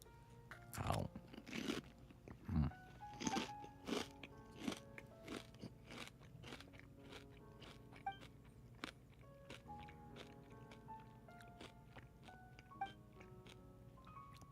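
Pork rinds being bitten and chewed close to the mic, a run of sharp, loud crunches that thin into softer, quicker crackly chews as the mouthful breaks down.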